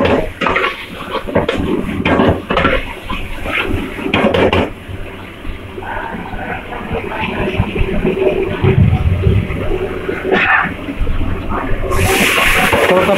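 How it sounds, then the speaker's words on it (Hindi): Water poured into a pan of Hong Kong-style chicken with soy sauce to make gravy, a steady splashing and sizzling wash with clinks of cookware, close and continuous throughout. "थोड़ा सा पानी दिया इसमें ग्रेवी के लिए"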